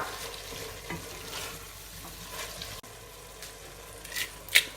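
Meat for homemade lasagne sizzles and browns steadily in a hot pan, a dense continuous frying hiss close up, with occasional utensil scrapes and a sharper clink near the end.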